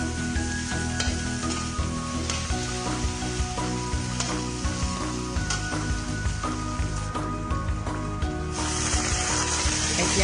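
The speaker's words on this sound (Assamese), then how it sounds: "এনেদৰে এতিয়া অলপ দেৰি ভাজি ল'ব" Egg curry with spices sizzles and fries in a pan, a dense continuous crackle and hiss with occasional stirring scrapes, close and loud.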